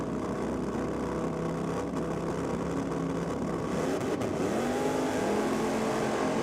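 Drag racing cars, including a Ford Cortina, roaring down the strip at Sydney Dragway, a dense, sustained engine drone with rising revs near the end, heard from a distance over crowd ambience.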